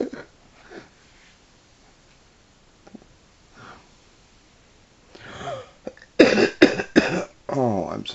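After a mostly quiet stretch with faint sounds, a person lets out several loud, close coughs in quick succession near the end, mixed with a little talking.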